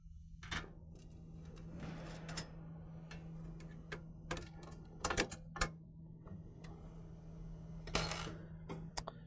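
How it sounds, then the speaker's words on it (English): Supplied hardware bolts an air-intake adapter onto a 2014-18 RAM 2500/3500 6.4L diesel. Faint, scattered metallic clicks and taps sound over a low steady hum. "with the supplied hardware, we're going to go ahead and bolt this down."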